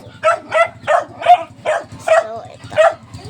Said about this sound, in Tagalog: May mga aso pa nga dyan.